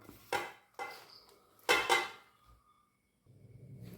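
A metal spoon scrapes and clinks in a pan while brinjal thoran with turmeric and salt is stirred, giving a few sharp, close knocks and scrapes followed by a soft sizzle, with no voices.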